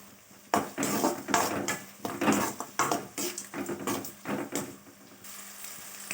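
Onions sautéing with a little salt in a pan for vegetable kurma, a steady close sizzle broken by irregular scraping and stirring bursts with occasional clinks of a utensil against the pan.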